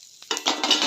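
Dried chilli, bay leaf and garam masala tossed into hot oil in a frying pan with fried potatoes, a sudden close sizzle that swells and crackles steadily after a brief quiet start.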